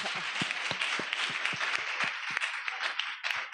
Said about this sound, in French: On applaudit pour elle alors.